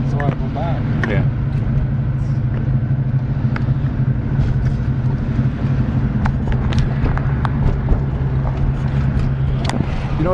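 A 1992 Ford Mustang V8 cruising through an old Ontario town, its steady low engine rumble droning continuously from inside the cabin under ongoing conversation.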